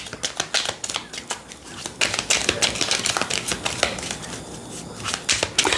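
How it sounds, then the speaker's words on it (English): Oracle cards shuffled by hand in a rapid run of crisp flicking and riffling slaps, close and steady, with no talking. "Let me shuffle."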